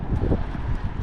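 Strong wind buffets the microphone in a brief, low, gusty rumble, close and loud.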